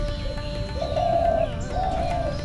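A dove coos twice at a riverside ghat in Hooghly, each call soft and drawn out, over a steady hum of background noise.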